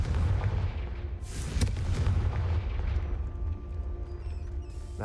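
The Confringo fire spell in Hogwarts Legacy bursts with a sharp crack and a booming blast over a rumbling low background, followed by a fading tail and faint chimes.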